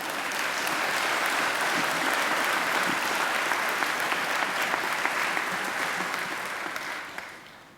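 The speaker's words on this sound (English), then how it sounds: "I think Rachel deserves another great round of applause." Sustained audience applause fills a graduation ceremony hall, a dense steady wash of many hands clapping for several seconds before tapering off at the end.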